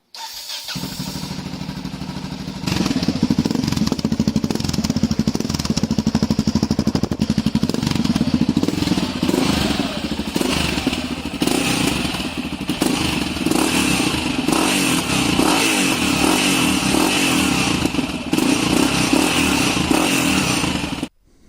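A Yamaha XT660R motorcycle engine starts up and idles steadily with a muffled, throaty exhaust note through baffles, running continuously at moderate loudness with no talking.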